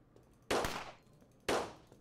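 Two sharp gunshots ring out in the zombie survival game Fort Zombie, spaced about a second apart, each a loud close crack with a short decaying tail over a quiet background.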